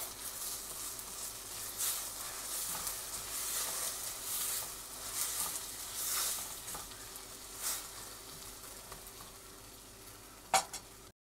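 Tomato paste sizzles and is stirred in a hot pan while cooking Filipino shrimp with tomatoes: a steady, close frying hiss with soft scraping, and a sharp utensil clink near the end.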